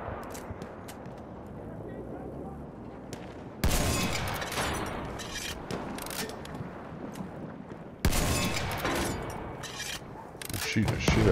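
Heavy gunfire and blasts hammer away at a heavy tank in the Battlefield 1 multiplayer game, dense bursts that swell suddenly twice, with a player talking over the chaos.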